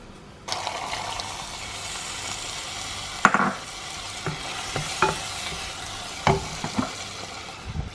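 Crab being cooked in a pot for okra stew, with a steady soft sizzle and bubbling plus occasional scraping stirs and clinks of a utensil against the pot, close by.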